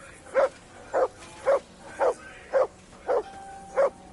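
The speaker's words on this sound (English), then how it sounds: "Whistle at that mutt of yours to stop barking." In the video game Kingdom Come: Deliverance II, a dog barks in a steady series of seven evenly spaced, moderately loud barks, about one every half second, over faint background ambience.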